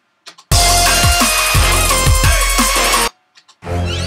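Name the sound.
reference track played back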